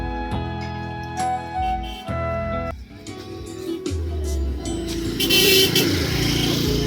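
Traffic noise from wedding guests' motorcycles at a tribal wedding gathering, with engines running nearby, passing vehicles and occasional horn toots blending into a loud, continuous roadside din.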